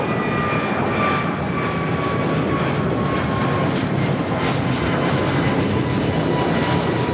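A jet airplane rolls down runway 25 right at LAX for takeoff, its engines roaring loud and continuous with a steady broadband rumble and a faint high whine.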